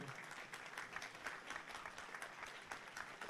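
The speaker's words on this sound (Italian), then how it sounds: "Sì, ci sta un applauso assolutamente." An audience claps at an outdoor Alpini commemoration ceremony, steady even applause that sounds fairly distant and soft, with no talk over it.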